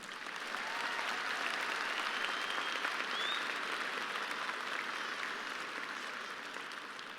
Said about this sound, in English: May we please have a round of applause to recognize these Honor Society